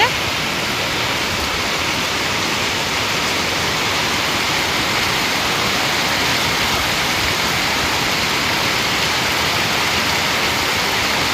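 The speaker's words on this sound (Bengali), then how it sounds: "দেখছো কিরকম বৃষ্টি হচ্ছে।" Night-time downpour drumming down without a break, a thick, even hiss of heavy rain up close that stays loud throughout with no other sounds standing out.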